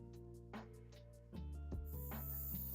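Spraying during the painting of a 3D-printed Miles Morales Spider-Man figure, heard as a close, steady airbrush hiss that starts near the end over a background of humming tones.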